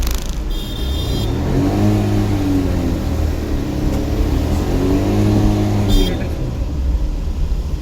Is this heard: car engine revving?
yes